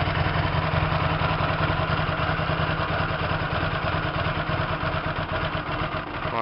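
A Hyosung 125 GTR motorcycle engine idles close by with a steady, even putter and a faint mechanical clatter, running alone with no voices.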